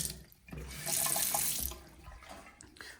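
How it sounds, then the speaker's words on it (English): A hotel bathroom sink faucet runs with a hissing, splashing stream that swells louder for a moment and then eases off, heard close by with no talking. "Another sink."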